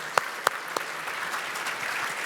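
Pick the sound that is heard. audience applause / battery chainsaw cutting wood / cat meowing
audience applause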